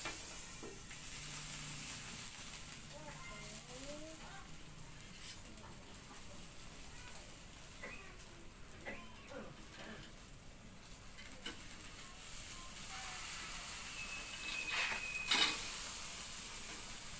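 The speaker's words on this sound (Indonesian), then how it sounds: "Saya mau pindahkan ke panggangan guys" Half-cooked fish for ikan bakar sambal matah sizzles faintly on a grill after coming off the coals, a low continuous hiss with scattered crackles and a few light clicks.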